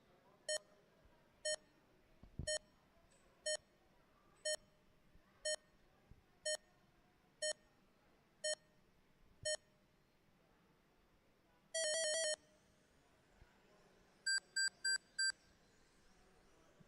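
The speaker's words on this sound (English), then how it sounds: "Here come the beeps." A row of evenly spaced electronic race start beeps at a club race sounds about once a second, followed by a brief longer tone and a fast cluster of higher beeps.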